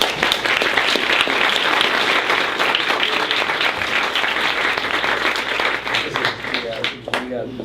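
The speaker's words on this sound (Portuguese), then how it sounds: "eu queria uma salva de palmas para o Marcelo" An audience at an academic talk breaks into sustained, loud applause, dense continuous clapping that holds steady for several seconds before thinning out, with voices mixed in near the end.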